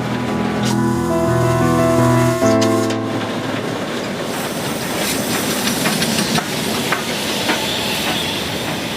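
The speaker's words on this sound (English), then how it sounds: "now steam appearing at the level of the wheels as the train begins to brake" A steam train brakes into a station with a loud, sustained hiss of steam escaping at the wheels, a harsh metallic squeal at the start giving way to steady roaring noise.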